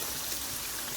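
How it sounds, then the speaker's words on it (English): Tamarind water pours into Singapore-style sambal, a faint, steady trickling stream for about a second with no other sounds. "Quite a bit of tamarind water gone in there."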